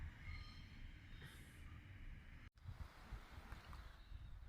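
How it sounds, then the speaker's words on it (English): A train rolls by somewhere in the dark before dawn near a river at White Bridge, a faint, distant, steady rumble with wind noise, briefly cut by a short gap. "Train's got a rolling by there somewhere in the dark."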